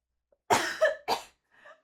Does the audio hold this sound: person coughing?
yes